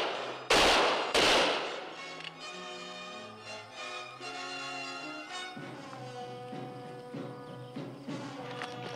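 A volley of musket fire from a frontier troop cracks out as two loud, close blasts near the start, followed by lingering rumble, shouting and orchestral music.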